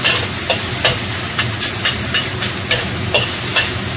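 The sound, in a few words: meat pan-frying for fish-fragrant eggplant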